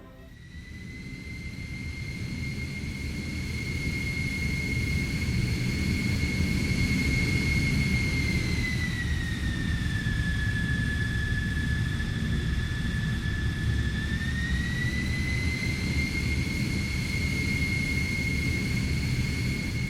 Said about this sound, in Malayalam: മുഹമ്മദ് റിയാസിനെയും കൊണ്ടുള്ള വിമാനം ഈ ഫ്ലോറിലേക്ക് എത്തുകയാണ്.